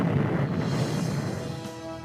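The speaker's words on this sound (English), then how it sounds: "the earth shook with a gigantic explosion" An ammunition dump explosion in a Korean War harbor scene, heard as a dense, sustained low rumble that holds steady and fades slightly over two seconds, with no distinct single blast and no voices.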